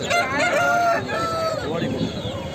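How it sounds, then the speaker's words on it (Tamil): A rooster crows nearby, a loud drawn-out call with wavering pitch, followed by softer clucking-like sounds. "கோழி"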